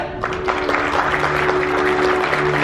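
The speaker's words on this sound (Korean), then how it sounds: "큰 박수 부탁드리겠습니다" Audience applause at an Asia fitness awards show, a steady crowd clapping that stays loud and even throughout, with faint background tones beneath.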